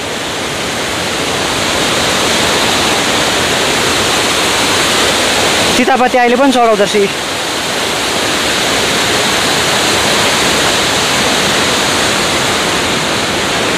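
A mountain stream near Darjeeling rushes steadily toward the Balason river, a loud, continuous broadband roar; someone speaks briefly over it midway.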